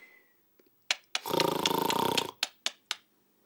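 A cartoon character imitates snoring with a voice: one long, rumbling snore in the middle, framed by short clicks and puffs before and after, at moderate volume in a quiet animated scene.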